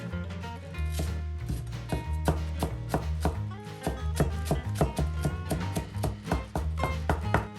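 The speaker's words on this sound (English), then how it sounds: "Let's start by cutting the green onion into small pieces." A knife chops green onion into small pieces on a cutting board, quick regular taps in a steady rhythm, close and clear over soft background music.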